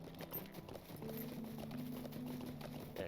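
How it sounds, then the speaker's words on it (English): Horse hooves clip-clopping at a steady ride in Lord of the Rings Online, a continuous rhythmic trot at moderate level with a low tonal drone of game music underneath. "we've obviously got quite a bit of horse riding to do"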